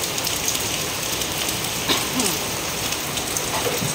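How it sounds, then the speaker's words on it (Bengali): Steady heavy rain pours down with a dense, continuous hiss and scattered drops striking nearby surfaces, no voices. "এই দেখো না কিরকম জোরে বৃষ্টি হচ্ছে"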